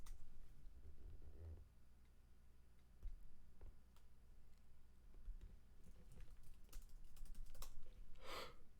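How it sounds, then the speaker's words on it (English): Rapid typing on a computer keyboard clatters in uneven bursts of clicks, close and quiet, with a few louder key taps and no talking. "Sorry, I'm typing."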